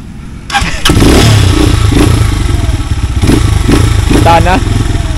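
A motorcycle engine starts and revs loudly up close with a rough, clattering idle and surges of throttle, while people talk nearby.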